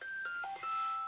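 A mobile phone gives a short burst of electronic tones, a few quick stepped beeps in a quiet room.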